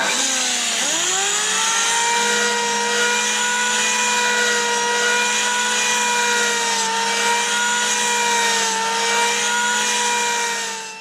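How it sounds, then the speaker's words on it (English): An electric planer running on wood in a woodturning shop spins up quickly, then holds a loud, steady, high-pitched motor whine throughout, with no talking. "along comes said electric planer"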